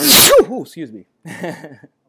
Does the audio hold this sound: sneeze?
yes